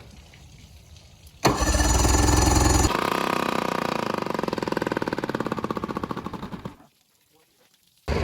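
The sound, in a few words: boat outboard motor being cranked over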